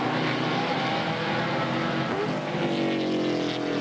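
A 1987 BTCC touring car accelerates out of the hairpin at Oulton Park, a loud, sustained engine roar rising in pitch, with other race cars running close behind.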